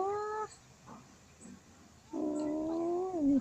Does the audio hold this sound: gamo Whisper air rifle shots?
no